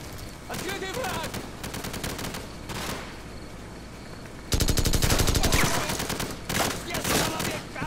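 Heavy gunfire in Call of Duty 4 on Veteran difficulty, with rapid automatic bursts and overlapping shots that swell into a louder, denser barrage halfway through. Faint game voices sit underneath.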